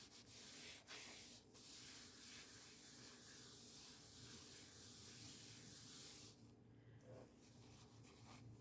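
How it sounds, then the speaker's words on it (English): Clear ultraviolet aerosol fixative sprays over artwork in a close, steady hiss that lasts about six seconds. A brief pause interrupts it early, and it stops sharply, leaving quiet room tone. "I will spray it with a fixative"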